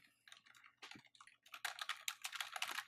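Fingers type on a computer keyboard at close range, starting with scattered keystrokes and building into a quick, dense run of clicking keys.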